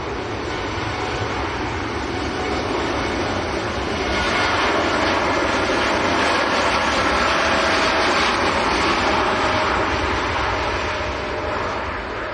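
A jet airliner departing for Doha thunders on its takeoff run, a loud continuous engine roar that builds and holds steady over twelve seconds, close to the listener.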